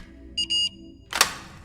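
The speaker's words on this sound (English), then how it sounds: "The red light on the reader turned green and beeped, followed by a click." A keycard reader gives two quick electronic beeps in a row, then a sharp mechanical click of the lock releasing, close and clear with no talk.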